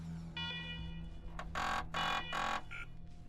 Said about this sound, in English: The computer beeps and whirs for the first time in years.